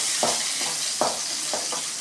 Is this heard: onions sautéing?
yes